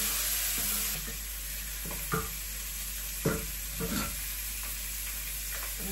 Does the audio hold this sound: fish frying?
yes